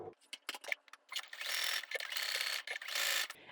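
Sewing machine zigzag stitching across the raw ends of a vintage quilt, short mechanical bursts of rapid needle clatter separated by brief pauses, close and fairly quiet with no talking.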